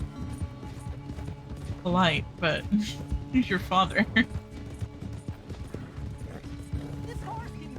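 A horse gallops in Red Dead Redemption 2, its hoofbeats clopping in a steady rhythm under game music while voices talk over the top.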